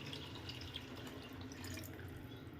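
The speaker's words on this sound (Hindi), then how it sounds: "तो ये 1 किलो चावल उसके हिसाब से मैंने इसमें पानी डाल दिया है।" Water poured into a cooking pot over browned rice and minced meat for keema mater pulao, making a steady, continuous splashing and trickling that fills the whole stretch without talk.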